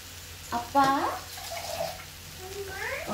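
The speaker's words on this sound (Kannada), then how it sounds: "ನೀರು ಹಾಕ್ತಾ ಇದ್ದೀನಿ ಸೊ ದಟ್ ಎಲ್ಲ ಮಿಕ್ಸ್ ಆಗಲಿ ಅಂತ ಅಷ್ಟೇ" Water is poured into a pan of raw jackfruit palya as it cooks, giving a short, close splash and trickle among moments of speech.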